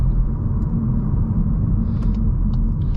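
A Volkswagen MK8 Golf R with all-wheel drive drives through rain, heard from inside the cabin as a loud, steady low road rumble with faint, brief high ticks over it.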